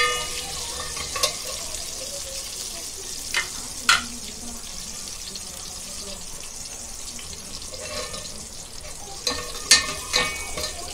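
Whole spices and masala sizzling in hot ghee for zafrani pulao, a steady frying hiss with a few sharp stirring clatters and spoon knocks near the pan, no talking.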